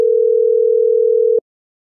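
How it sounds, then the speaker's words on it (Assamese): Telephone line tone held as one steady, unbroken pitch while a call is being placed, loud and clear, then it cuts off abruptly into silence. "বিমল লেগে এটা ফোন মাৰিছা আৰু"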